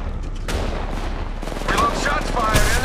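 Rapid bursts of automatic weapon fire during an Apex Legends Mobile match, dense and loud, rattle repeatedly over a booming game background.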